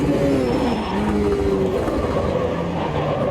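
A race car in Automobilista 2 sliding sideways through the corners of the Monaco street circuit, tyres squealing in long wavering tones over a steady, loud engine drone, continuous and close.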